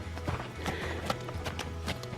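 A horse's hooves thud on the ground while circling at liberty, soft irregular footfalls close by with a faint low voice underneath.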